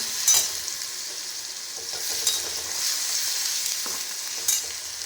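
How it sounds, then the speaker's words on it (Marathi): Onion with garlic and cumin paste sautés in a pan, a bright continuous sizzle punctuated by a few clinks and scrapes of the stirring spoon, close and steady, with no talking. "छान लसूण परतून घेऊया"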